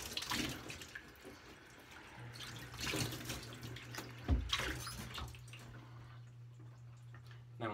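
Tap water running into a sink for a cold rinse of the face after shaving, a steady broadband wash with small splashes and a low hum, fairly quiet and close, with no talk.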